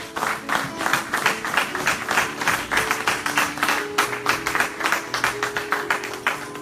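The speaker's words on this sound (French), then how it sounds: "On acclame la parole du Seigneur." A church congregation claps in rhythmic unison to acclaim the word of the Lord, a steady string of sharp, fairly loud beats with a crowd murmur underneath.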